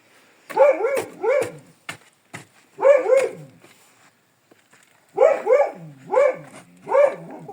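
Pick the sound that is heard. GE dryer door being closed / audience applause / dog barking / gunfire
dog barking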